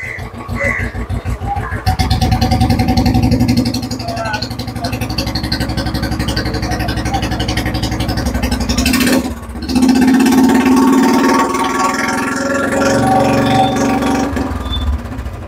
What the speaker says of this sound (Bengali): গাড়িটা সাউন্ডটা শুনো